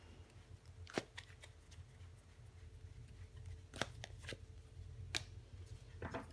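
Tarot cards being handled and laid out one by one, a few soft, crisp slaps and flicks spaced apart over a low steady background hum.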